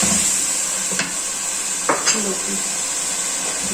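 Bottle gourd and chana dal stirred together in a cooking pan, a soft sizzle underneath a few distinct scraping and clinking strokes of the spoon against the pan, close and moderately loud.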